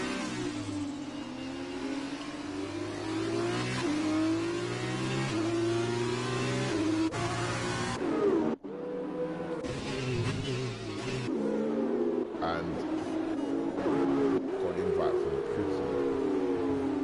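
Race car engines in a Monaco Grand Prix video game, a dense pack of cars droning and shifting pitch together through the street circuit, loud and continuous with brief gear-change dips.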